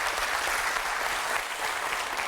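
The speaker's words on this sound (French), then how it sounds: "Et ça s'applaudit." Loud, sustained clapping from a studio audience at a French television game show, a thick even roar of many hands with no break, close and full for about two seconds.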